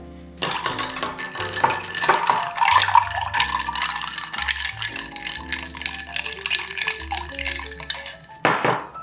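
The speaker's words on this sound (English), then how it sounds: "Now all we have to do is stir everything up with a spoon." A spoon clinking and rattling against glass and ice as a cocktail is stirred, a busy run of bright metallic chinks over several seconds, close up with no voices.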